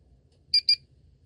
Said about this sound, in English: can be manually reset by turning the device upside down until 2 beeps are heard